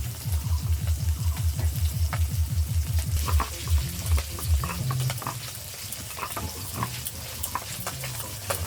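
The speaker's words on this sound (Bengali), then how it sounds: "মাছ ভাজা হয়ে গেছে এবার তুলে নেবো" Fish, freshly caught from a pond, frying in oil in a pan, with a steady close sizzle under a rhythmic scraping stir that thumps repeatedly early on, then a softer continuous crackle.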